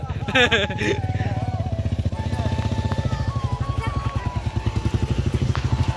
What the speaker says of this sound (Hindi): बाइक चला रहा है ना